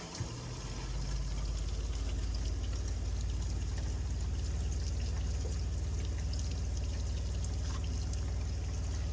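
Water pouring steadily into a Black & Decker portable washing machine as it fills, a constant rushing stream over a low motor hum, close and unbroken throughout.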